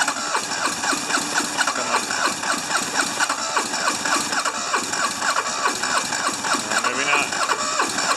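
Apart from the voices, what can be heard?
diesel engine cranking and starting on a cold morning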